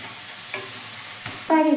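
Spices with turmeric, sugar and salt are stirred in a pan over a low, soft sizzle, with a couple of brief scraping strokes and a louder clatter of the spoon near the end, close by and without voices.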